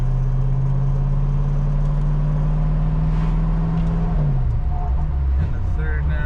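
A 1965 Ford Mustang Fastback GT with a four-speed gearbox drives along, its steady engine drone close and loud throughout, pitch dropping near the end as it shifts, with someone speaking briefly over it.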